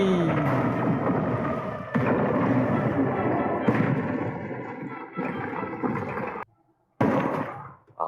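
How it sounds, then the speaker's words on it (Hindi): Explosions in an action film's climax sound as a series of heavy, rumbling booms about every one to two seconds. They are loud and broad, cut briefly to near silence before a final blast. "मैं धमाका शुरू करूं।"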